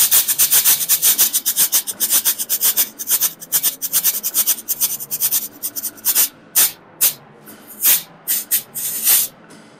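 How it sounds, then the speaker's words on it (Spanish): A handheld shaken percussion instrument swung by its handle makes dense, rapid, rhythmic rattling swishes up close, loosening into separate distinct shakes near the end, with no voices. "Eso es de agitar, entonces se mantiene la mano agarrada aquí y se mueve con el mango."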